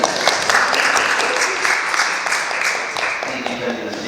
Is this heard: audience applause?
yes